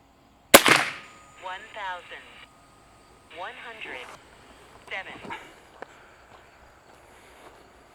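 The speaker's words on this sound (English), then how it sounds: "I'm going to be shooting the target with the AEA Challenger Pro going 1100 feet a second." An AEA Challenger Pro airgun fires an H&N 21 grain slug at a target at 1100 feet per second, one sharp loud crack followed by quieter noises and a later faint tick, with someone talking between them.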